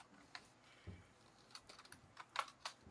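Clicks and taps from a computer keyboard being typed on, scattered and irregular at first, then bunching into a quicker burst of keystrokes near the end, with no talking over them.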